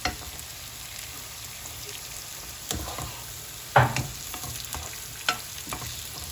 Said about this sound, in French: nos petites courgettes râpées. Et on mélange tranquillement.